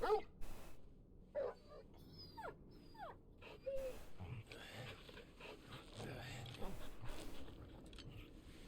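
A dog in Final Fantasy XVI barks and whimpers in short, scattered yips and whines, fairly faint beneath game sounds and voices talking.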